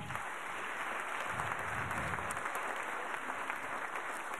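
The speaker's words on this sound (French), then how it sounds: "merci de me rejoindre sur la scène sous un tonnerre d'applaudissements" Steady applause from a crowd, dense clapping that holds at an even level throughout without pause.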